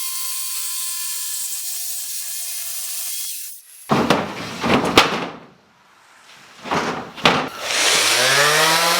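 A power tool bites through the front deck of a jon boat being converted to a bass boat, in two loud bursts of rough cutting with a pause between, after a steady whine and before a rising motor hum.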